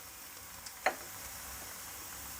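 Whole red chillies, kalonji and curry leaves sizzling in hot oil for a tadka for bhuna qeema, a soft, steady frying hiss with one sharp pop, and no voices.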